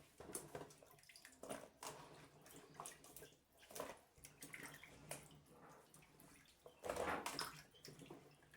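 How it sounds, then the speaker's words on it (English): Water trickling and splashing out of washed, diced potatoes sitting in a colander, an uneven close-up draining patter with a few louder gushes, with no voices. "the water is draining."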